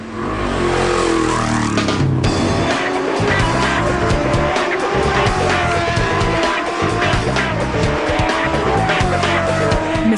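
A Ducati 999 superbike races around the Misano track in Italy during a race-day qualifying session, its engine screaming loud and close with rapid rising and falling revs that barely pause.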